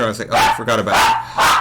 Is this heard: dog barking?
yes